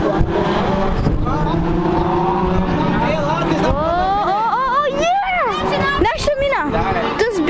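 Race car sweeping past with rising and falling engine pitch, loud and close, with spectators chattering and talking over the noise.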